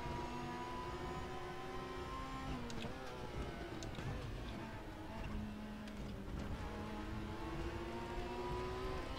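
A BMW touring race car's engine drones in a racing video game, its steady tone rising and falling with gear shifts and throttle, continuous and fairly faint.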